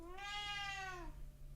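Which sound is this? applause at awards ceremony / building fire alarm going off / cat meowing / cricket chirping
cat meowing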